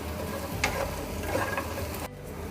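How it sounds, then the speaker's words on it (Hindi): Bread upma with vegetables being stirred in a pan, a steady close scraping and soft sizzle with a couple of brighter clinks, no talking. "ब्रेड को अच्छे से मिक्स कर लेंगे हम।"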